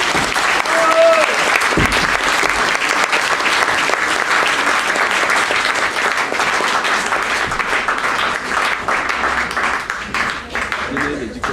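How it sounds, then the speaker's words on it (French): An audience at a talent contest finale in Saint-Étienne applauds loudly and continuously, a thick, steady roar of clapping that lasts throughout, with a brief voice heard at the start. "On les applaudit s'il vous plaît."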